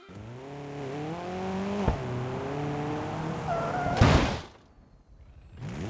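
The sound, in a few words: Volkswagen Tiguan mod crashing in video game BeamNG Drive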